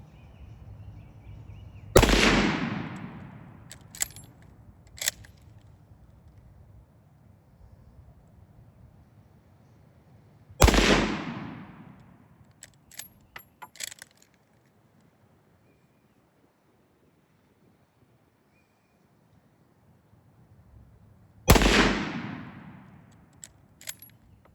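Three loud gunshots from an SMLE Mk3 rifle fired outdoors at roughly 40 to 50 yards, each a sharp crack with a decaying tail, spaced several seconds apart, with light wind noise and small clicks between shots.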